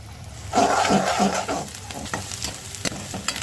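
Onion with ginger and garlic frying in hot oil, a loud burst of sizzling as it hits the pan, then continuous crackle with scraping stirs and small clicks, close up.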